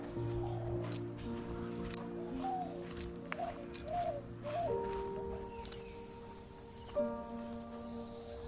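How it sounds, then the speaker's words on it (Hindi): Birds singing near a riverside palace retreat at Belgadia, faint chirps and repeated coos rising over a steady insect trill, with a few brief sharper calls toward the end and no talk. "इन चिड़ियों की आवाज़ से मैं खींचा जा रहा हूँ उस तरफ"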